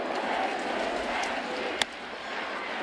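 Baseball stadium crowd at a Tampa Bay Rays versus New York Yankees game, a steady broad roar of cheering voices filling the space, with one brief sharp crack near the end.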